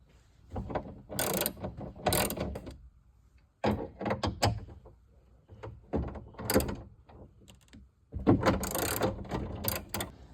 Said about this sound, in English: I went ahead and added an extension to my ratchet. Makes it easier to get to these bolts here that holds the window in.